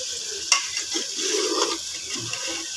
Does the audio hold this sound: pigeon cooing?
no